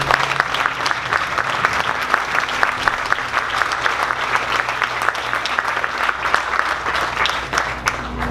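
Applause from an audience at a PathGroup ribbon cutting, a steady dense wash of many hands clapping that runs unbroken and fairly loud from start to finish, with no voices over it.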